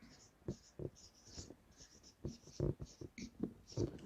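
A hand writes on a board during a chemistry nomenclature lecture, making short, scratchy strokes in a quick rhythm. The teacher's voice runs under the strokes.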